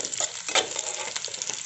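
Two green chillies frying in a pan with paneer, giving a steady close hiss of sizzling oil with a brief louder burst as they hit the pan.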